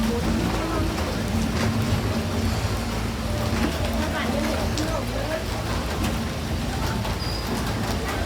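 Continuous patter of rain falling outdoors during a Buddhist Tak Bat Devo alms-giving ceremony in Thailand, a steady hiss throughout with faint bird cooing and low background rumble.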